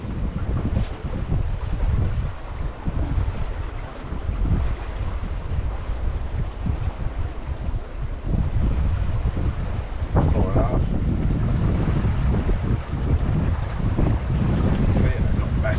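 Wind buffets a cruising sailboat as the breeze strengthens, a loud continuous rushing and microphone gusting mixed with water washing along the hull.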